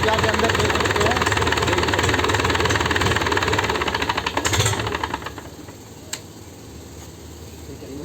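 A freshly repaired engine runs at a steady idle with a loud, continuous knocking rumble, then the level drops slightly and continues more quietly to the end.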